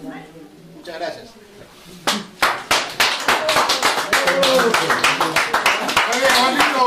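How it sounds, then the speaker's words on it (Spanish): An audience at a folk song gathering of copla singers bursts into applause after a song, starting with scattered claps and swelling into steady, loud clapping, while a voice speaks briefly before it builds. "Muy bien, bonito aplauso."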